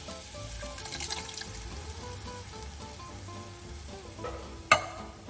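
Canned black beans and chopped tomatoes with their liquid tipped into a pan of sautéed onions and garlic, giving a steady close sizzle with watery splashing and stirring, and a sharp clatter near the end.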